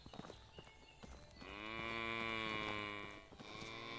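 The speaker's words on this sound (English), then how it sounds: "Cow." A cow in the video game Medieval Dynasty lets out a single long, low moo that swells and holds for a couple of seconds before trailing off, heard alone without talk.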